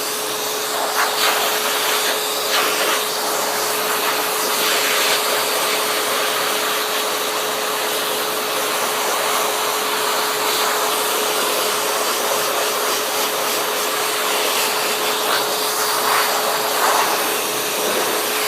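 A pet blow dryer blows against the grain of a cat's coat during grooming, a loud, steady, unbroken airy roar with a faint constant motor whine.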